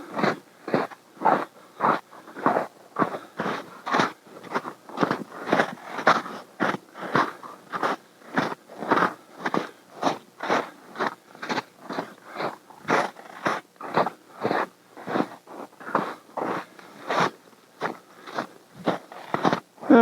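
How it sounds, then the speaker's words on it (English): Crunchy refrozen snow at about 15 to 20 degrees being stepped on, a steady run of evenly spaced sharp crunches, close and fairly loud, alone without voices. "melting some of the snow and making it all crunchy"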